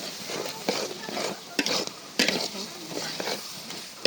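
Red chili is added to a curry cooking on a clay stove, and the quiet frying hiss comes with intermittent scraping and stirring clicks from a utensil against the pot.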